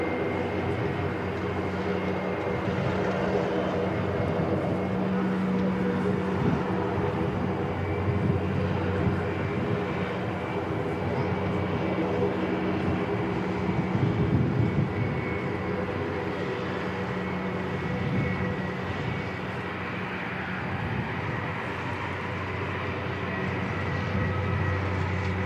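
Jetstar jet airliner at Christchurch Airport: a steady, moderate engine hum with tonal drones continues for about twenty-five seconds, with faint talk mixed in.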